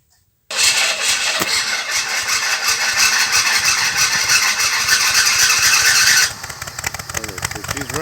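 The engine of a 1961 narrow gauge Bombardier cold-starts with a sudden loud burst after a brief silence, then runs with a steady rough chatter before dropping to a lower idle near the end.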